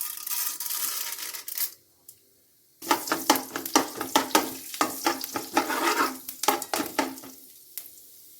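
Urad dal hits hot ghee in a pan for podi idli: a brief hiss, a near-silent pause, then a burst of crackling, spattering sizzle with rapid popping and stirring, loud and close, no talking.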